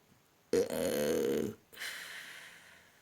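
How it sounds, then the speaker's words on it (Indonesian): One loud, drawn-out burp from a person lasting about a second, followed by a softer trailing breath, in an otherwise quiet room. "sendawa ini terjadi saat terkoneksi dengan energi ya, saat seperti shuffle kartu ataupun menyampaikan pesan"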